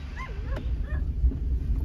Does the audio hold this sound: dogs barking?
yes